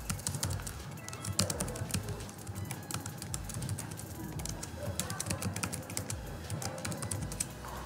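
Steady typing on a computer keyboard while entering customer names into a database table, quiet rapid key clicks running throughout, with faint talk in the background.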